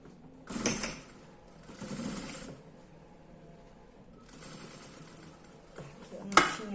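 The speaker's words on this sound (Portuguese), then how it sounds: "Fazer uma costura só para juntar os dois buracos" A sewing machine stitching a doll's coat, running in a few separate bursts of whirring with quieter gaps between them, moderately close, and a sharp click near the end.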